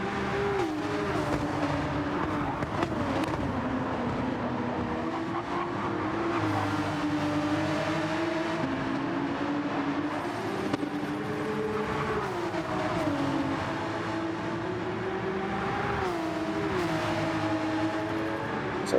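Porsche Cup race cars climb Mount Panorama, a close, sustained high-revving engine note that rises and falls through gear changes, with the whine of other cars layered beneath.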